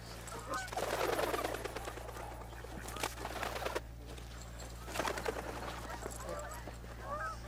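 Geese and other waterfowl honk and call repeatedly in a loose, overlapping chorus over a steady low hum, at Blackwater National Wildlife Refuge.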